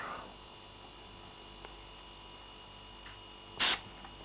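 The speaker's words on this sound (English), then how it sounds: "Turn on my air compressor and just blow some air in here." A short, sharp blast of compressed air from an air compressor nozzle, used to blow solder out of a cheap IP camera, hisses loudly once near the end after a quiet stretch of faint room hum.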